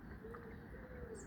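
Pigeons coo softly in a back garden, a low murmuring call set within a steady wash of outdoor ambience, with faint chirps from other birds in the distance.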